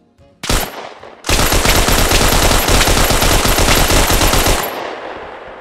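Automatic weapon fire in the video game Hell Let Loose, a brief burst followed by a long sustained rattling volley of rapid shots, loud and close with no voices.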